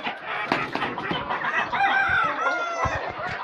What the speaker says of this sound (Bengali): এই মুরগিগুলো খাচ্ছে দেখলেন